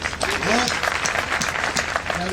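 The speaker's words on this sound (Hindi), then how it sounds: "एक बार ताली बजाइए" Applause from an audience at a Hindi poetry reading, a short burst of clapping heard under a voice that carries on speaking through it.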